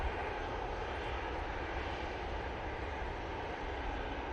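A Eurowings airliner at Manchester Airport gives off a steady, fairly distant jet engine rumble, constant and unbroken with no voices over it.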